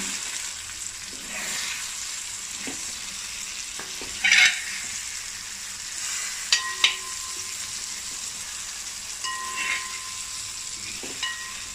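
Prawn and tomato masala for idiyappam biriyani cooking in a pan, a low steady sizzle with occasional spatula scrapes and clinks as it is gently turned.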